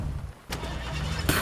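Car engine in the Fortnite video game, a steady motor hum that runs through the clip, with a short break and then a brighter burst near the end.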